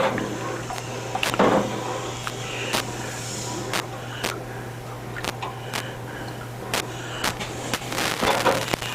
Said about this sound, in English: what we try to do is agitate the parts to have them cool down to the point where we can handle them